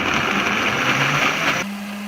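Vitamix 7500 blender churning milk, frozen strawberries and banana, a loud dense whirring roar that cuts off abruptly, leaving a low steady hum.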